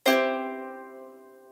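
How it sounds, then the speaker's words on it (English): A single plucked harp chord, all strings sounding at once, ringing out clearly and decaying slowly over a second and a half. "Now if I pluck them all at the same time, it sounds like this."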